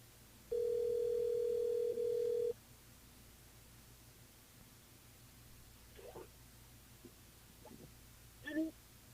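A telephone ringing while a call is placed to a listener over a radio show line: a steady electronic ring tone lasts about two seconds, then quiet line noise with a few faint clicks follows.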